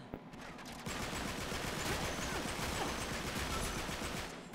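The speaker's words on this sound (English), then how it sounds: "I got sniped by an enemy." Dense, continuous gunfire from the video game Uncharted 3, including sniper shots, fills the whole stretch as a loud, unbroken rattle of overlapping shots and impacts with no pauses.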